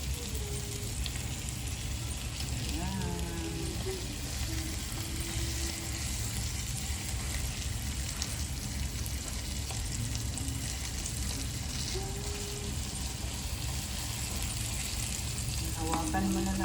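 Food frying and browning at the edges of a pan for a home-cooked lunch gives a steady, close sizzle throughout, with faint voices and light utensil sounds underneath.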